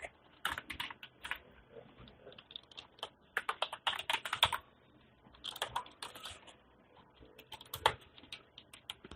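Keys clatter in quick, irregular bursts as code is typed on a computer keyboard, close up and quiet, with short pauses between flurries and no talking.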